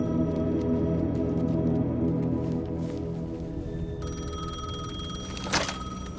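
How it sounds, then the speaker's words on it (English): A payphone rings in the video game Alan Wake 2, a bright repeating electronic bell over a low droning ambient score, steady and fairly loud, with a sharp tonal shift near the end. "The payphone was ringing."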